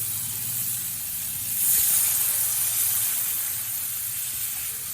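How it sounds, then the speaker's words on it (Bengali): Water poured into a hot pan of hog plums being cooked for chutney gives a steady hissing sizzle with a brief louder surge partway through, close and continuous, with no talk. "এবার পরিমাণ মতো জল দিয়ে দেবো।"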